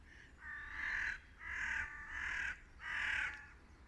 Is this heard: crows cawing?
yes